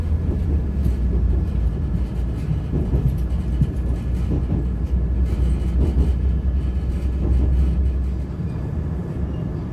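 A train leaving Shirley station rumbles steadily, heard from inside a carriage, low continuous rolling with faint rattles and clicks of wheels on track, loud and unbroken throughout.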